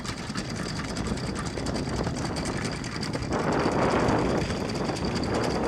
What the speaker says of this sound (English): I'm just going to hold her in position while the anchor goes down.